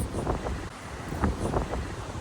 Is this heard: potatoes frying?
no